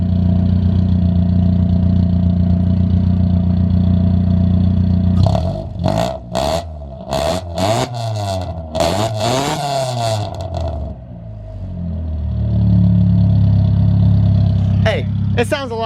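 A DA9 Honda Integra with a swapped F20B engine and aftermarket exhaust idles steadily, then revs in several sharp, loud bursts before settling back to idle, with a brief spoken word and background talk.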